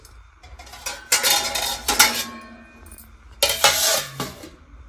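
Dishes and pots being washed in a village home kitchen in the early morning, with repeated bursts of clattering metal utensils and cutlery knocking together, close and fairly loud, separated by quieter pauses.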